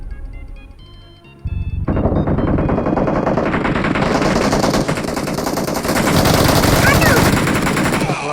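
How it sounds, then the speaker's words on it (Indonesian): Loud, dense bursts of automatic gunfire from a video game erupt after a brief quieter start, then roll on almost without pause, rapid overlapping shots filling the rest of the stretch. "Lama kali nembak"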